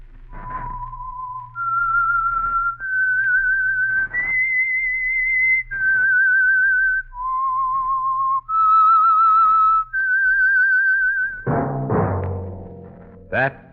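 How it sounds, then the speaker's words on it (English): A clear, solitary whistled melody of sustained tones rising and falling in steps, serving as the theme signal for the Signal Oil mystery radio program The Whistler, ending with a brief burst of orchestral music. "whistle is your signal for the signal oil program, The Whistler"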